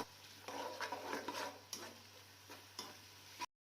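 Onions browning with garlic paste in a pan for a spicy chicken capsicum salan, a soft steady sizzle with a few spoon scrapes and clinks against the pan, faint and close, no talking.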